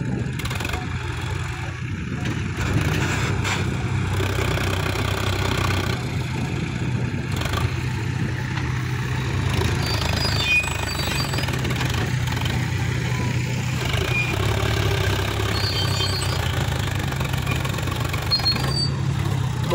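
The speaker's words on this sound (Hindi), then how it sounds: "दो तीन बार आगे पीछे करने के बाद ये ट्रैक्टर निकलता है हर बार।" A Sonalika DI tractor stuck in the field runs its diesel engine, producing a continuous low, loud rumble that rises and falls slightly while rattling and clattering throughout, with faint voices now and then.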